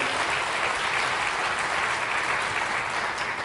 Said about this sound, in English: I expected a little applause on that one